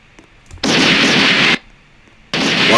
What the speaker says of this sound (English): A lot of explosions up there.